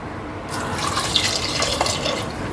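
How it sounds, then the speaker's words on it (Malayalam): One cup of water splashes into a pressure cooker, a steady close gush with faint dripping and watery gurgles lasting a couple of seconds, no speech. "ഇനി 1 കപ്പ് വെള്ളം കൂടി ഒഴിച്ചു കൊടുക്കാം."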